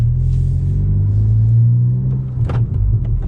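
A 2020 Honda Civic Si engine, running a KTuner base map, holds a loud rev and then falls quickly once the clutch goes in, a close, throaty rumble sliding down in pitch, briefly broken by a short voice near the end.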